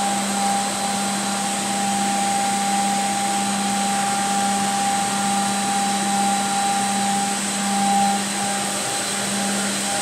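A HOMAG Profi KAL 3106A20 edgebander runs steadily while applying edge tape, giving a continuous loud machine drone with a steady whine and hum throughout and no voices.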